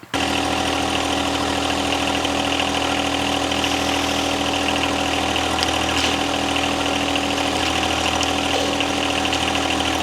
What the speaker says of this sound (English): We have Jeannie on the tractor